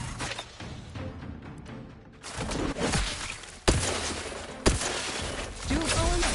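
Gunfire in the video game The Outer Worlds 2, sharp loud shots and impacts bursting out amid busy combat noise, with a couple of strong separate hits.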